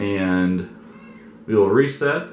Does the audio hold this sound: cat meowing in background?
yes